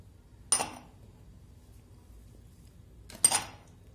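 Two short, sharp clinks a few seconds apart as ingredients are tipped into a hard mixer jar, close by in an otherwise quiet room.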